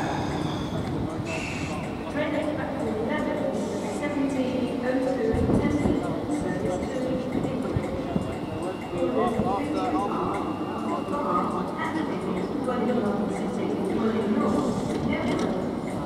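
LNER Class 91 electric train departing London King's Cross for Edinburgh Waverley, a steady loud rumble and hum of traction and station noise with rattling, continuous throughout.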